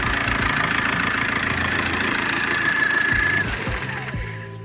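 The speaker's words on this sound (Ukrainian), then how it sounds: "Як в нашому випадку мотор працює." A car engine idles steadily up close, a rough mechanical hum that drops and winds down near the end as it is switched off.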